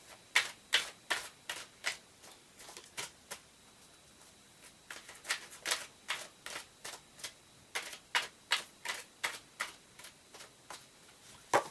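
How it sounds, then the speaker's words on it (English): A deck of tarot cards is shuffled in quick repeated riffles and taps, a steady run of sharp crisp clicks and flutters, close and fairly quiet, with no talking. "Here they are, and I'm just going to shuffle them on screen."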